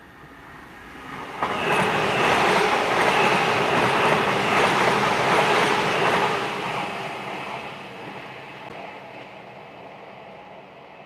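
A TransPennine Express passenger train passes close by, rising suddenly into a loud sustained roar of wheels and rattling carriages that holds for several seconds, then fades gradually as it moves away.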